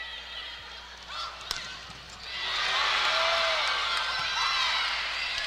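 Crowd at a women's college volleyball match between Northern Iowa and Kentucky swelling into loud cheering after a spike, rising from quieter arena ambience into a sustained roar.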